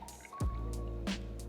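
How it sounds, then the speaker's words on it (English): Chemex pour-over coffee poured from the glass carafe into a mug, a steady liquid stream with a few splashy drips at close range. "So we're gonna pour the coffee into here. Isn't that just a beautiful stream?"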